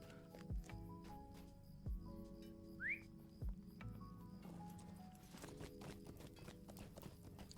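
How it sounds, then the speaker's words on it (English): Horse hooves clip-clop at a walk in The Lord of the Rings Online, a few spaced hoof thuds under steady whistling and tonal game ambience, fairly quiet with no talk. "Let's get on our horse."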